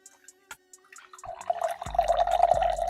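Water poured into a patterned glass cup, a few sparse drips followed by a steady, close pouring and filling sound that grows fuller toward the end.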